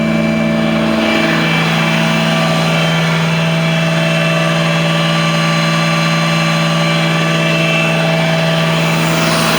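A boat engine from an Ebbtide boat runs steadily on a dyno test, warm at about 175 degrees with the thermostat cycling; it makes a loud, continuous, even drone with a constant pitch and no sputtering for the whole stretch.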